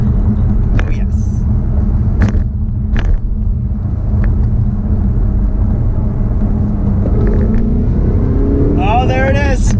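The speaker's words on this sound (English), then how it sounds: "you hear the supercharger" Steady, loud car engine rumble with a supercharger, punctuated by a few sharp transient knocks and a rising whine near the end.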